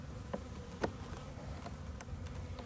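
Honeybees buzz around an open beehive, a faint steady drone of many insects with a few louder buzzes as single bees pass close.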